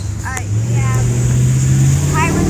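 Truck engine drones nearby, a loud steady low hum that swells slightly as it passes, with voices talking over it.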